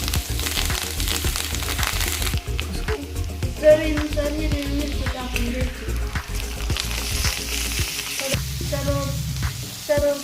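Spices and green coriander frying in hot oil for potato vada filling, a steady loud sizzle with spatters and stirring scrapes throughout, close by, while a voice talks over it.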